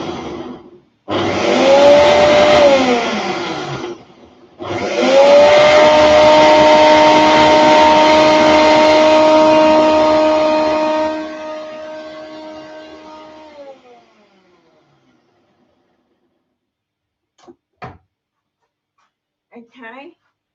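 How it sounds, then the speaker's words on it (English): Kitchen blender whirring loudly through thick brownie batter in two long bursts with a short pause between. The motor pitch sags under load, then it winds down and the room falls quiet. "I'm going to blend it."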